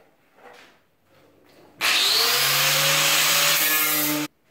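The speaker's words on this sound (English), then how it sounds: "Next thing we're going to do is hit this with the grinder." Power grinder running on a wood and metal coffee table build, starting abruptly after quiet handling noises and holding a loud, steady abrasive whine for about two and a half seconds before cutting off.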